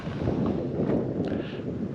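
Strong wind buffets the microphone with a constant low roar on a high lookout in the Flinders Ranges, steady and close, with no other clear sounds.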